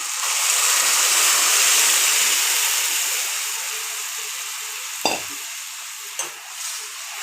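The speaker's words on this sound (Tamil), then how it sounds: "இப்போ நம்ம அரைச்சி வச்சதை ஊற்றிக்கலாம்." Ground masala paste tipped into a hot pan gives a loud, steady sizzle that rises, then slowly settles into a softer hiss. Near the end a couple of sharp clinks from a utensil break through.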